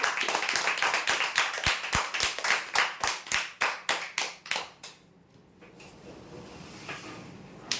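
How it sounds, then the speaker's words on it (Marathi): Rhythmic clapping greets prize winners at a weekly lottery draw: a run of about twenty sharp, evenly spaced claps that stops partway through, leaving a quiet room tone. "जोरदार टाळ्या हव्यासाठी"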